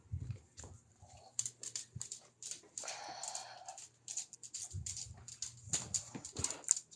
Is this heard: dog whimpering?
yes